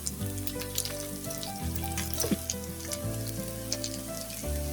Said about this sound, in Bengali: আমি অল্প তেলে কিন্তু এটি ভেজে নিচ্ছি